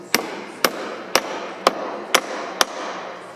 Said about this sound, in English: these nails back here, you need to put them on an angle because you can't hammer them straight down